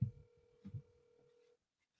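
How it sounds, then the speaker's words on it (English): A telephone ringback tone sounds as a steady electronic hum for about a second and a half while calling into a gaming arena, with low thumps at the start and cut off abruptly into silence. "Getting Heckler on the phone here right as we speak"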